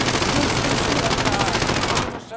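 Rapid automatic gunfire in a shooter video game, a continuous loud rattling burst of shots that cuts off near the end, with a voice faintly mixed in.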